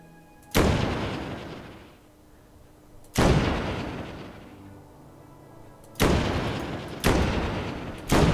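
Loud, booming gunshots from the LEGO Worlds video game fire alone, each with a long decaying tail: one at a time with pauses of a few seconds, then two closer together at the end.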